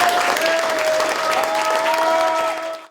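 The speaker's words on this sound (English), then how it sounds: "give yourself a round of applause that you're worthy of" Audience applause at a Yellow Ribbon gathering, a dense sustained clapping that holds steady and then tapers off near the end.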